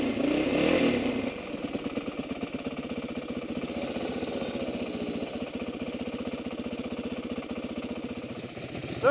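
A motorcycle engine idles with a steady, rapid chugging rumble, close and continuous, after a brief louder rev at the start.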